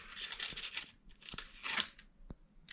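Hand sanding inside an abandoned boat: faint, rough rasping strokes in short uneven bursts, scratchy and close, with quiet pauses between them.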